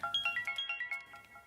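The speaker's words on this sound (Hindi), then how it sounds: "पापा उसी का फोन है।" A mobile phone ringtone plays a quick repeating melodic pattern of bright electronic tones, moderately faint and steady, with no talk over it.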